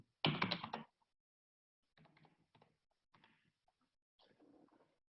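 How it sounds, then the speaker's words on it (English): Rapid typing on a computer keyboard while entering expenses, a loud close burst of clattering keystrokes at first, then several softer, scattered flurries separated by silence. "forgive my spelling and my quick typing"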